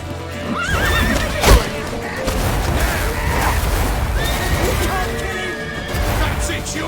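A horse in The Witcher 3 whinnies and its hooves clip-clop in a steady rhythm under urgent shouting voices, with a sudden crash partway through and constant battle noise around it.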